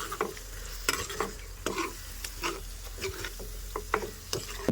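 Onion and spice paste stirred into frying meat in a pan: a continuous sizzle broken by repeated scraping, clacking strokes of the spoon in an uneven rhythm, close and clear.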